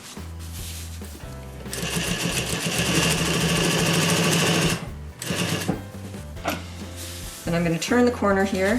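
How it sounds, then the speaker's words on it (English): A sewing machine stitches a pillow insert with a fine stitch, back-stitching and turning a corner. It makes a close, rapid mechanical whir in bursts with short pauses, and a person talks over it. "At the sewing machine, I'm going to start at the open edge here, and I'm going to stitch 3/8 of an inch."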